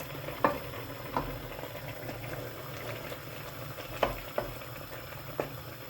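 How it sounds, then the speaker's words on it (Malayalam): A dried fish curry with mango boils in a pot, bubbling softly and steadily with a few sharper pops and ticks now and then. "ഇനി നമുക്കിതൊരു 5 മിനിറ്റ് തിളപ്പിക്കാം"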